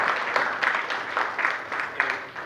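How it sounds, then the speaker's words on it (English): A business expo audience applauds its event sponsor, Charter: a steady wash of many hands clapping at moderate distance, with a few sharper claps standing out, and no clear voices over it. "let's have a good round of applause for our friends at Charter who have sponsored today's event"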